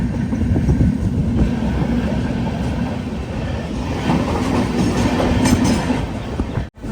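Sleeper-class express train running steadily on rails near Madgaon, with a loud continuous rumble and rhythmic wheel clatter throughout, ending in a brief dropout.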